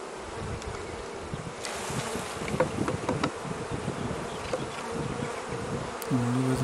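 Honey bees buzz steadily and densely at an open beehive during a beekeeping inspection, a close, continuous drone with a few louder individual passes.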